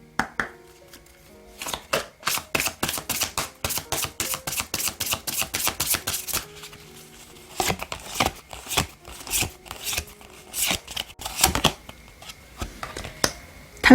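A deck of oracle cards being shuffled by hand, with quick crisp riffling bursts repeating in a steady rhythm, loud and close, then pausing and resuming in shorter shuffles.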